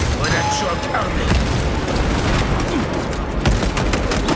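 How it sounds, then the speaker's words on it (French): A shock grenade detonates amid dense, continuous combat in Warhammer 40,000: Space Marine 2, with booming blasts and gunfire-like bursts packed into a loud, unbroken wall of battle noise. "Grenade choc armée."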